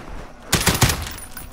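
A short, loud burst of rapid gunfire from a video game, a tight cluster of shots lasting under a second, standing alone without talk.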